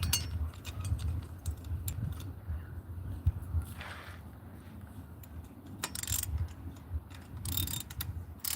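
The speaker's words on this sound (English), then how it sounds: "where's my old lengthy ratchet at?" A long ratchet clicks in quick bursts of small metallic ticks while working on a Yamaha YD100 engine during a cylinder replacement, close but fairly quiet over a steady background hum.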